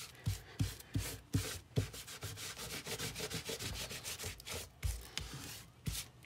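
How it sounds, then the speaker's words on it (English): Rhythmic rubbing of a wet rag wiping paint off a junk journal page, close and fairly quiet, with repeated back-and-forth strokes and no talking. "I'm going to take my rag, or you can take a baby wipe, and I'm just going to wipe"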